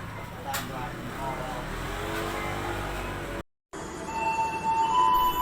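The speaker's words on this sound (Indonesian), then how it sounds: "naik motor itu Grand Astrea" A Honda Grand Astrea motorcycle rides along a road at Cikidang, its mid-pitched engine and wind noise running steadily, cutting out briefly and then returning louder.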